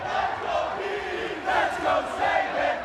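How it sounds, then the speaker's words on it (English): A wrestling crowd roars through a Chris Sabin vs Petey Williams match, a steady wash of cheering that swells in rhythmic chanting bursts toward the end. "Listen to the crowd."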